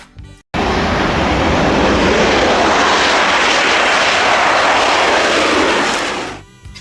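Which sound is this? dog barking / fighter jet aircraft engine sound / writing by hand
fighter jet aircraft engine sound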